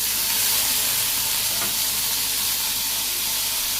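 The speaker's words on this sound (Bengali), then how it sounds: "আবারও একটু হালকা ভাজি করি" Vegetables fry in a pan with salt, a loud, steady close sizzle with stirring, continuous throughout, no talking.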